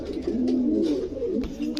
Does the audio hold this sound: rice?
no